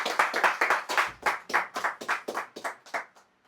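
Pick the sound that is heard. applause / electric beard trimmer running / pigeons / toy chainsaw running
applause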